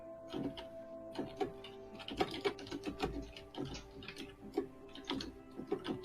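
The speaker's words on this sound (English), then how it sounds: "Can hear you typing." Computer keyboard typing on a voice call, a steady run of quick clicking keystrokes in irregular bursts, fairly close and clear with no talk over it.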